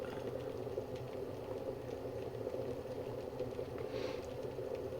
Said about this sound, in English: It boils away there for quite a while before it clicks off